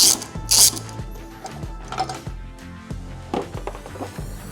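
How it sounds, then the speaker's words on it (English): A ratchet works a T40 bolt loose on a RAM ProMaster van: quick bursts of rapid clicking pawl ratcheting, close and loud, repeating in short strokes with brief pauses between. "So I'm going to remove that now. It's the same T40 bolt to get that off."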